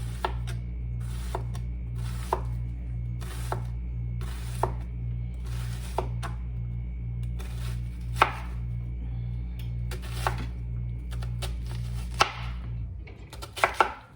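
An onion being cut with a knife on a cutting board, a steady run of sharp chopping taps roughly every half second, close and clear over a constant low hum, with a few louder knocks near the end.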